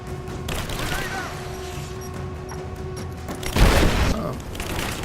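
In Rise of the Tomb Raider, a grenade blast booms in the middle of distant rattling gunfire and mechanical clatter, while a voice speaks over the combat.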